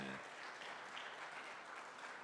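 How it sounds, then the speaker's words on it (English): A conference audience at a tribal renewable energy and sustainability event gives a warm round of applause for a speaker. The steady, even clapping is fairly faint and distant, and a voice cuts off right at the start. "Gets a warm round of applause for Brittany Turner."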